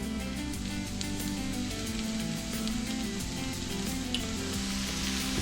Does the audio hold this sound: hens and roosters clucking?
no